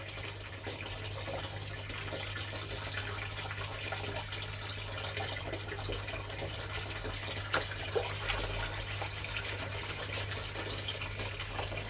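Water sloshing and trickling as larger quartz chunks are washed off the top of a gold pan, a soft continuous splashing with occasional drips, fairly faint over a low steady hum, no talk.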